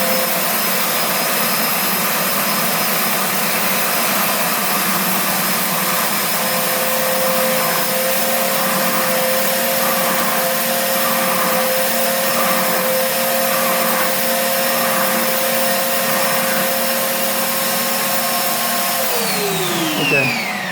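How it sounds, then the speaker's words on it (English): Electric sander clamped to a tabletop, running steadily at close range as a loud, continuous whir for about twenty seconds before winding down at the end; no one speaks. "I have this sander clamped down to the table so it doesn't shift."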